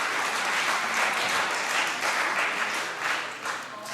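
Members of the Scottish Parliament chamber give sustained applause, a dense, even wash of many hands clapping at once that carries on steadily and loudly with no speech over it.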